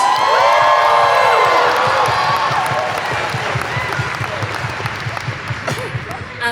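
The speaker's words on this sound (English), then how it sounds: "one big more round of applause!" Audience at a cosplay masquerade at a London comic convention applauds and cheers, loud and dense at first with whoops and voices rising above the clapping, then thinning and fading gradually.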